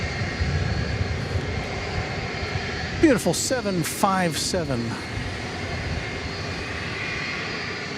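A loud, steady airplane engine roar as a plane revs up at Dallas/Fort Worth airport, with someone briefly speaking over it midway.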